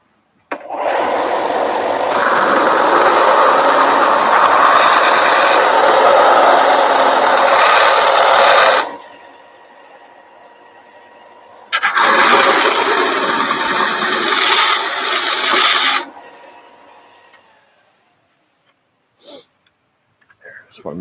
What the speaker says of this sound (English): I'm going to take it to the belt sander.